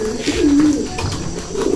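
A pigeon cooing close by, a few low throaty coos in a soft rolling rhythm against light background noise, with no talking.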